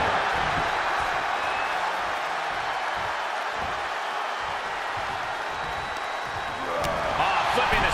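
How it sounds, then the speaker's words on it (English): Crowd cheering in the video game WWE 2K23 on PS5 during a championship match forms a loud, continuous roar that swells and dips across the whole stretch, with occasional sharp impacts. "What a raucous crowd here tonight."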